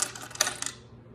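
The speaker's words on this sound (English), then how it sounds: "I'll put my change right over here. It's kind of loud when it hits the table." Loose coins drop and clatter onto a table, a quick run of bright metallic clinks and jingles that settles into a fading ring, close and fairly loud.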